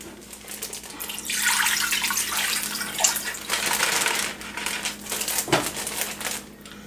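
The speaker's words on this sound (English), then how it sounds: "In this pot, I'm gonna put 2 cups of Joe's homemade chicken stock." Homemade chicken stock pours into a kitchen pot, a steady liquid splashing and gurgling for several seconds with a few clinks, close and moderately loud.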